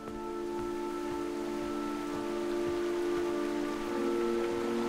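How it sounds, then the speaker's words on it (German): Rain in the King's Quest video game: steady, even patter of rainfall on surfaces, moderately quiet, with a faint sustained tonal hum underneath and no voices. "Regen."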